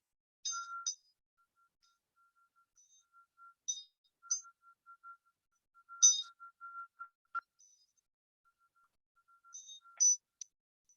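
A small ganti bell made to sing: soft, repeated metallic pings and a faint lingering tone, with sporadic brighter clinks scattered over about ten seconds, quiet and close with no talking.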